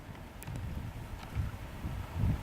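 Wind blows at sea aboard a sailboat as a steady, buffeting rumble that swells and gusts, with the wind battering the microphone close up.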